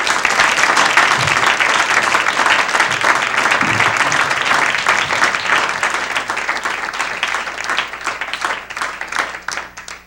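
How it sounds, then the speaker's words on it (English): A comedy club audience gives a loud, sustained round of applause for a comic at a 1985 show, filling the whole stretch with dense clapping that thins only slightly toward the end. "A nice round of applause for Mr. Barry Crimmins."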